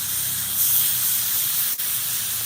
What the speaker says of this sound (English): Man, that steam is still building up.